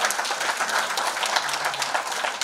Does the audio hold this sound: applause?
yes